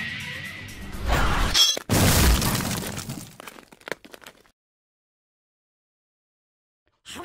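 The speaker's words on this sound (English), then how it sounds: "Blunt sword attack!" An impact from a blunt sword attack in a dubbed anime scene: a loud crashing, shattering burst with a whoosh, followed by a decaying crackle of debris, then silence until a brief sound at the very end.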